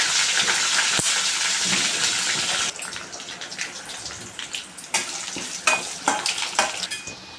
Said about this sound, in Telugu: ఐదు కరేపాకు ఇప్పుడు కలుపుకోవాలి వేగనిద్దాము